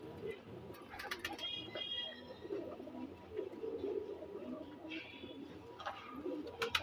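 Soft, low cooing of Kansa Kash pigeons repeats throughout, mixed with scattered bird chirps and light background noise.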